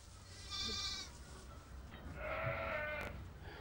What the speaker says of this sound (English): These lambs at Ifold Farm are only a day or two old.